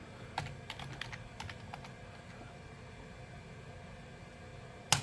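Someone types on a computer keyboard with a few quick, close key clicks in short bursts during the first two seconds, followed by quiet room hiss and one sharper keystroke at the end.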